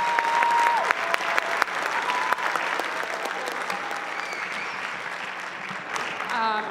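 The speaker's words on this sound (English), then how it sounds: "you can give them another round of applause." Audience at an elementary school winter chorus concert applauds steadily throughout, a dense sustained clapping from a crowd filling the room, with a few louder near claps standing out.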